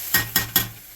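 A spoon scraping around a pan of sauce for Salisbury steak, three quick evenly spaced scrapes close up, with no voices.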